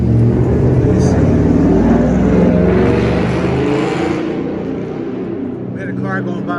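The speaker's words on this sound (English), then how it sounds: "We had a car going by with an extremely loud muffler." A car with an extremely loud muffler roars past on a downtown Birmingham, Alabama street, a heavy rumbling exhaust drone that fills the first few seconds and then fades, heard from the sidewalk with brief faint voices at the end.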